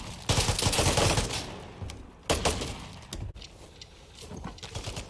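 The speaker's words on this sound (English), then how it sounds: "So there is these heavy machine guns that this thing holds like, I don't know how many bullets, 100, and they're gonna kick more than anything." Heavy machine gun fire in the video game Vigor, loud close bursts of rapid shots with pauses between, ending in lighter scattered rounds.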